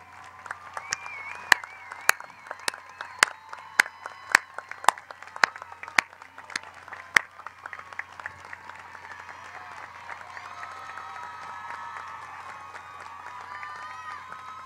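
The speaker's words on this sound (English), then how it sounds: "ask our distinguished and dedicated, our wonderful faculty members, the heart and soul of the university, to please stand and let us applaud you" Applause from a commencement audience honoring standing faculty at a college of arts and letters ceremony, a broad crowd sound with sharp individual claps ringing out early, then settling into steadier, softer clapping with faint voices.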